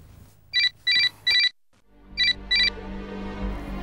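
A mobile phone ringtone chirps in five short electronic bursts, three in quick succession and then two more after a brief gap, fairly loud and close against a low background hum with no talk.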